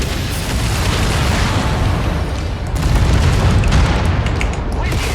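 Rocket explosions rumble in the MechWarrior 5 Mercenaries video game as a loud, continuous wash of booming blasts and crackling impacts, with a voice speaking briefly over the din.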